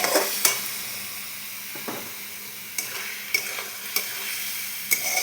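Turmeric and spices being stir-fried in a pan, a steady sizzle with spatula scrapes and taps recurring about once a second, close and clear with no voices.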